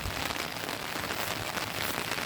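Steady rain falling outdoors on a farm, a dense, loud, even patter that fills the whole moment with no pauses.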